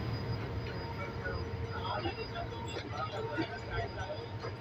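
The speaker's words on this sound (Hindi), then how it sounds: "फरीद एक्सप्रेस यहाँ से कराची कैंट से डिपार्ट कर रही है" Farid Express train departing Karachi Cantt station, hauled by an EMD locomotive. A steady, close rumble of rolling stock and engine carries on under someone talking throughout.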